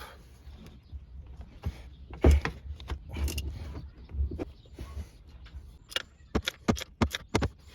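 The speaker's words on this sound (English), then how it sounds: "Then we'll take our 1/2-inch drive, lock it on there" Metallic clicks and clanks of a 1/2-inch drive ratchet working an O2 sensor loose on a Sea-Doo 325 engine, with irregular close taps and jangles of varying loudness and no talking.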